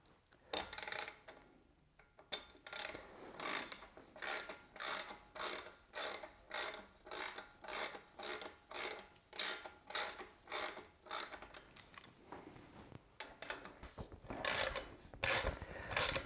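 A bottom bracket tool is turned in a ZiZZO Liberte folding bike frame to unscrew the bottom bracket, making a steady run of loud, rhythmic ratcheting strokes, each about half a second long, close up and with no talking.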